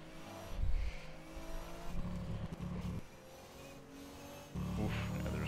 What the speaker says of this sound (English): For some reason it decided to grow a turbo, so it's got this whistle noise